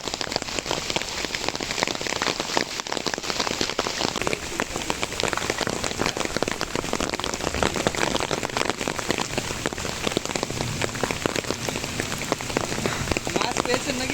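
Monsoon rain pours down over a Sundarbans village in a dense, steady hiss, drops drumming on an umbrella and surfaces close by, with no pause throughout.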